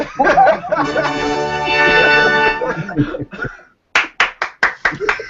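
A quick run of about seven sharp hand claps, close and loud, comes in during a casual gaming podcast chat, right after a stretch of dense voices and tones.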